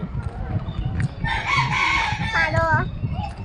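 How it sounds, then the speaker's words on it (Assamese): A chicken at a zoo gives a drawn-out crowing call over steady crowd murmur and people talking nearby, ending in a few rising cackle notes. "এইটো মুৰ্গীটো চা"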